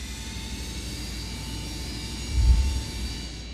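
Steady jet engine rumble and whine from a TWA Boeing 727 taxiing toward the runway, heard from inside the aircraft as a constant, fairly loud drone with a brief swell near the end and no talking.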